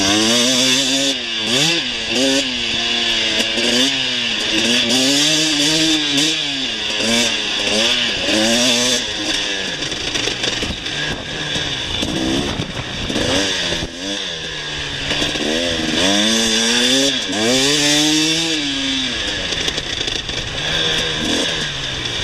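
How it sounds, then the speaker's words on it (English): A KTM motorcycle engine revs repeatedly up and down through the rev range at a demo ride in Phoenix, loud and close, with smooth rising and falling pitch sweeps and no talking. "The bike just ran no matter what I did with that throttle."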